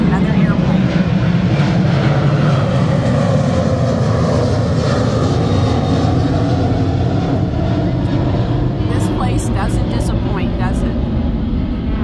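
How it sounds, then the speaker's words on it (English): An airplane flies overhead and roars loudly and steadily for the whole stretch, a broad engine drone that gradually shifts as it passes, with faint background sounds near the end. "There we go again, another airplane."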